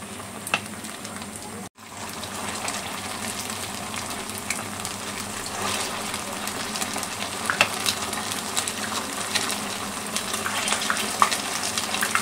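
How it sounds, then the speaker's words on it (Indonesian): Snacks deep frying in hot oil give a steady, close sizzle and crackle that grows slightly louder over time, with occasional light clinks and stirring. "kemudian kita goreng."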